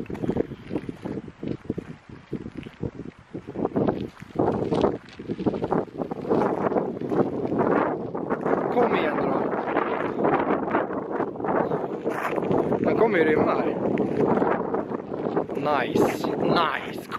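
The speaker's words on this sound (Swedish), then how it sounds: "Det börjar blåsa också." Wind buffeting a microphone outdoors, rough low rumbling gusts that rise and fall throughout, loud and close, with a person talking under and over the noise.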